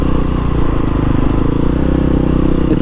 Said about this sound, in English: She idles perfectly.